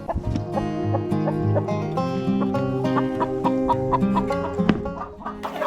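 Chickens and a breeding rooster in a farm henhouse cluck steadily and close by, with overlapping calls forming a busy, continuous layer of poultry noise throughout.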